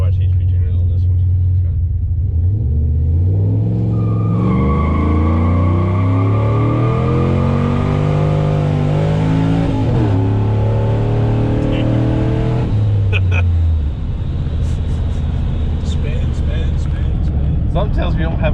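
A cammed Chevrolet Sierra pickup with larger injectors and a Circle D stall converter launches hard, its loud choppy idle climbing into a sweeping rev that rises, holds and then drops back off. Nearby voices are audible under the engine.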